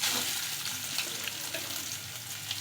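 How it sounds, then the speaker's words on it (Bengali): Finely grated, ground coconut frying in ghee over low heat, a dense continuous hiss and crackle close up, fairly even throughout with no voices. "দেখুন একদমই মিহি মিহি করে কুচিয়ে রেখেছিলাম নারকেল দিয়ে দেব ওই ঘিয়েতে।"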